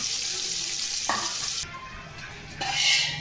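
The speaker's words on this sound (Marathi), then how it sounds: "एवढा कांदा कसा भाजायचा एवढ्या तेलामध्ये" Chopped onion frying in a generous amount of oil for chicken biryani gives a steady, close hiss of sizzling, with a couple of brief stirring clatters breaking through midway and near the end.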